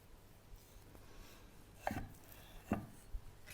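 A knife cuts through raw tuna on a board for ceviche, giving two or three soft, dull chops spaced about a second apart over a quiet room background.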